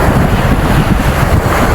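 Strong, unrelenting wind at a rainy riverside or lakeside campsite, buffeting the microphone in a loud, close, continuous rumble with rushing texture and no pauses.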